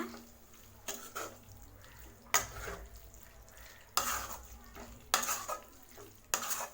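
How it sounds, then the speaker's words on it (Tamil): Mutton keema sautés with masala in a pan, a low sizzle punctuated by several sharp, regular scraping stirs of a spoon against the pan, close and fairly quiet, with no voices. "மிக்ஸ் பண்ணி இதை நல்லா வதக்கி விடுங்க."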